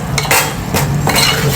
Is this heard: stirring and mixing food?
yes